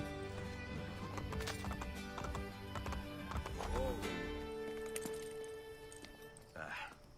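Horses gallop with steady clip-clop hoofbeats and an occasional whinny in Assassin's Creed Brotherhood gameplay, layered under game music and spoken dialogue throughout.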